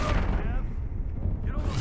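Gunfire in the VR game Gambit on Quest 2, heavy booming shots aimed at the player, several sharp blasts at the start and end with rumbling between.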